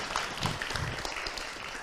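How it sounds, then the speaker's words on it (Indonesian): Audience applause at an Islamic religious lecture, a steady, fairly soft wash of clapping that holds through the short moment without voices over it. "Tepuk tangan untuk kita semua."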